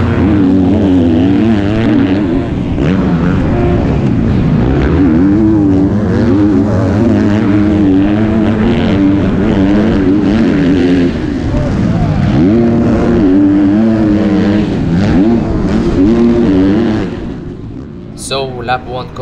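Motocross bikes race on sand at the MXGP of Italy, a Kawasaki running ahead; loud, close engine roar rises and falls with throttle changes throughout, then drops off near the end with a few sharp noises.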